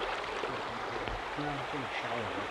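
A mountain creek runs steadily during an elk hunting trip, giving a constant close wash of flowing water with faint low tones mixed in and no clear speech.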